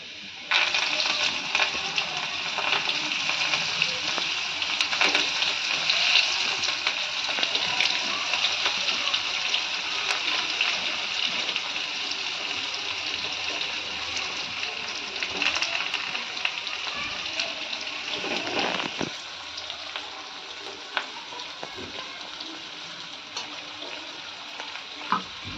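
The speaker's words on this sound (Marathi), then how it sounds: "आता हे सर्व कारली मी त्याच्यामध्ये टाकून घेणार आहे तेलात." Bitter gourd slices frying in hot oil, a steady loud hiss and crackle of sizzling that runs continuously, gradually easing toward the end, with occasional stirring clinks.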